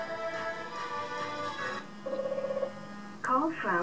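Phone call placed through a Jawbone Big Jambox speaker, with a pulsing dial tone followed by a ringing tone, brief and moderately loud, with someone talking around it.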